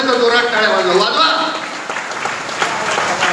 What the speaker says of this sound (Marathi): तुमचं असं व्हायला नको असेल तर जोरात टाळ्या वाजवा.